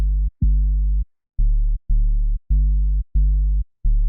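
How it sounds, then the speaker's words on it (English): Plucky synth bass notes, each starting with a rapid two-octave pitch drop for a punchy transient, played as a loud, isolated, deep sequence of separate held notes with short gaps between them. "I also used envelope 2 with a rapid 2-octave pitch down to give the transient even more punch in the mix."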